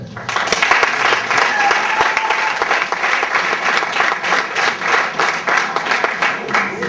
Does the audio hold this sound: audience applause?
yes